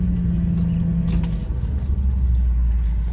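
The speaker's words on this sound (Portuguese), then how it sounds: "Ó, o caminhão tá aqui, ó." A truck idles and drives close by, producing a loud, steady low engine rumble that dips briefly and then settles into a deeper drone, with no speech over it.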